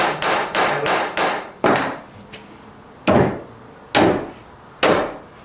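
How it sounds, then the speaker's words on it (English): A regular straight claw hammer pounds metal pins in an antique oak table top during restoration: eight sharp, close strikes, a quick run of four followed by four more spaced out, each ringing briefly, with no talk. "Take a hammer, just regular straight claw hammer,"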